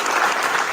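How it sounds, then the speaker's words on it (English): A crowd applauds thirteen college graduates who also won a championship; a brief, steady wash of dense clapping without clear individual claps. "let's give them a round of applause."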